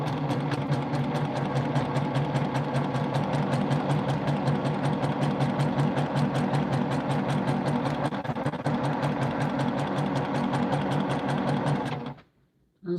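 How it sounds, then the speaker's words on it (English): A home sewing machine runs steadily at a fast, even stitching rhythm, loud and close, then stops abruptly near the end. "Sounds like my sewing machine is purring."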